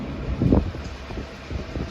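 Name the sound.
Lehigh Gorge Scenic Railroad train behind R&N F units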